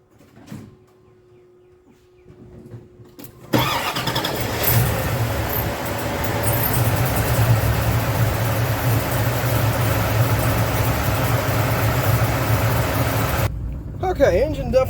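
LS1 V8 in a 1970 Buick with a BBK SSI intake cranks to life after a quiet pause and settles into a loud, steady idle with a low rumble, then cuts off near the end.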